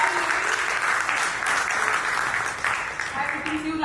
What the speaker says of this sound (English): Can we have a huge round of applause for this powerful lady?